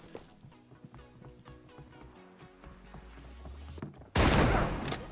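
Gunfire from the mobile battle royale game PUBG Mobile, a sudden loud burst of shots near the end following quieter in-game music and ambient sound.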